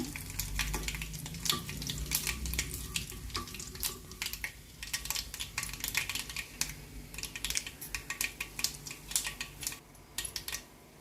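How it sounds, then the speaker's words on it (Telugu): A tempering of mustard seeds, urad dal and curry leaves fries in hot oil, crackling and popping rapidly and irregularly, with sharp close spatters throughout. "తాలింపు కొద్దిగా వేగనిద్దాము."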